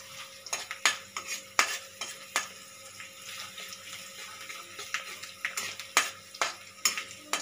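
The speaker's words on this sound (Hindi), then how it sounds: "लहसुन को हल्का सा भून लेंगे।" Garlic sizzles gently in a spoonful of oil in a kadai while a utensil scrapes and clinks against the pan in irregular stirring strokes, close and fairly quiet, with no talking.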